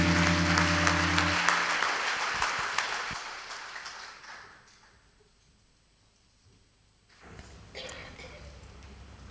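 A church congregation applauds a pastor with loud, sustained clapping that gradually fades to quiet, followed by a brief burst of sound near the end.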